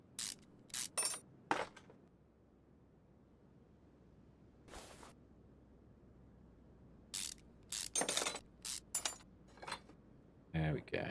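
Quick ratcheting clicks from a wrench unscrewing camshaft caps in Car Mechanic Simulator 2021 come in short bursts separated by quiet gaps, crisp and close.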